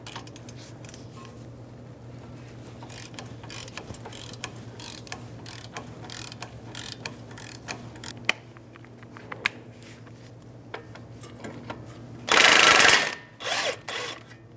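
A ratchet works inverted Torx E20 brake bracket bolts loose on a 2015-2024 Jeep Renegade: steady quick clicking over a low hum, then a loud, harsh burst near the end as the bolt breaks free, with no one talking.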